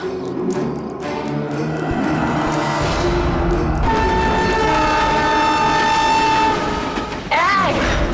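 A train rumbles past close by with heavy rolling noise, and a loud horn blares through the middle, then rises again near the end.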